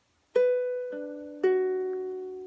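A few plucked ukulele notes ring out one after another, clear and close, each decaying slowly in a short, unhurried melodic phrase.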